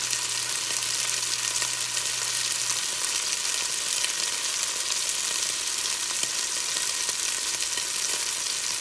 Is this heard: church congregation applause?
no